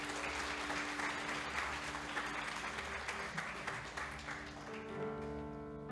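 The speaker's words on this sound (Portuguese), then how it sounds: "Palmas para eles, minha gente." Church congregation applauding at a Portuguese-language service, a fairly faint, sustained spread of clapping that holds evenly for several seconds with a low musical tone underneath.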